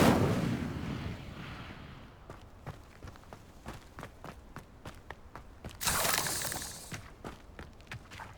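A fire spell cast in Hogwarts Legacy bursts out as a bright roaring whoosh near the six-second mark, after a run of sharp, evenly spaced clicks and thuds from combat against a many-legged foe.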